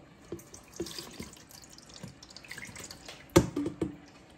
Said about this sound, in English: we're gonna let it just drip for a while